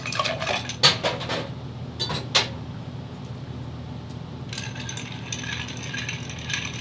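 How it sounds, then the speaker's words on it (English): Ice is stirred in a mixing glass for a Martinez cocktail, with a burst of clinks and rattles at first, then a steady soft swirling chime, close and moderately quiet, with no talking. "And as we stir, the ice slowly dilutes"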